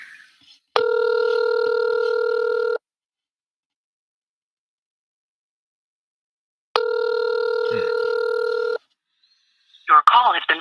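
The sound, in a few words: telephone call being dialed and ringing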